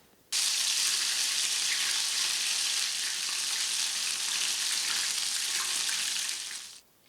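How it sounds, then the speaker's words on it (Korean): Dried ingredients plunged into hot oil for deep-frying, a loud steady bubbling sizzle that starts abruptly, holds evenly for about six seconds, then fades out, with no talking. "요 마른 걸 튀길 건데요"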